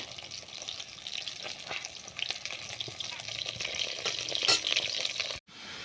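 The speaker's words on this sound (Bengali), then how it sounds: "মাছগুলো ভেজে নিচ্ছি।" Tilapia fish pieces, rubbed with salt and turmeric, frying in hot oil in a pan, giving a steady close sizzle and crackle with a brief louder spatter near the end and a sudden cut-off.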